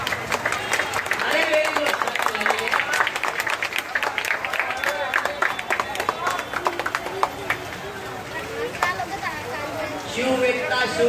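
Crowd clapping and cheering for a Govinda pathak team after its human-pyramid salute at a Dahi Handi celebration, a dense, steady wash of applause with scattered whistles and voices mixed in throughout.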